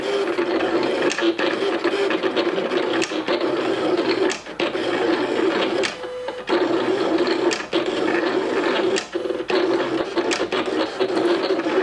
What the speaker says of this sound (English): It looks like it drew the outsides of the letters and then it drew the insides. And now it's drawing the box and the outer box.